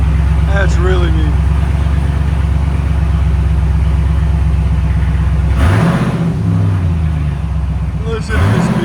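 A 2024 Ram 2500 HD with a 6.4-liter Hemi V8 idles with a deep, loud rumble, then is blipped into a couple of sharp revs that fall back to idle, heard from inside while a voice speaks briefly.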